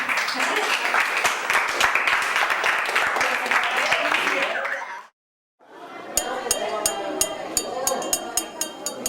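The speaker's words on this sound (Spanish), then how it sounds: "Un aplauso." Applause from an audience at a Calmecac Xochipilli school presentation, a burst of clapping that cuts out abruptly, then resumes with sharp ringing clinks mixed in.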